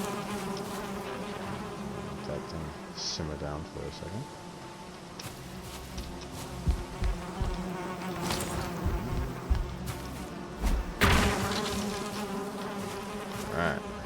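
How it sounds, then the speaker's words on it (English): Bees buzzing in the game Valheim, a steady insect drone running under a man's speech, with occasional louder bursts of in-game sound. "Oh, I finally found some bees."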